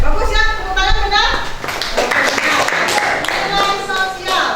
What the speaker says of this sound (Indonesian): tepuk tangan benar